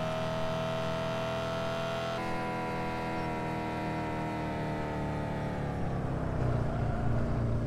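A car engine driving in Car For Sale Simulator 2023, the car running low on fuel; a continuous engine drone with harmonics that rise and sag in pitch as it pulls along, no talking.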